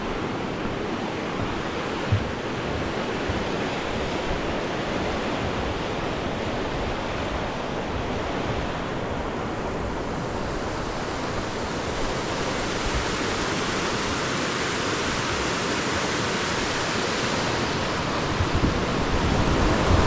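A river in Oze, Japan, rushing steadily past as a dense, even roar of flowing water that stays constant and fairly loud throughout.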